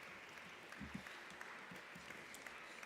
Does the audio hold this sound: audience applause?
yes